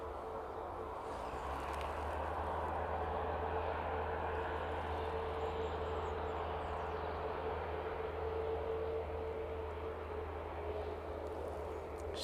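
A Ryanair airliner rolls quickly along the ground after landing at East Midlands, giving a steady, distant jet engine roar with a constant whine and no speech.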